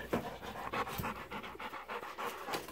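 A Rottweiler boxer mix dog panting close by, quick steady breaths in an even rhythm with no talking.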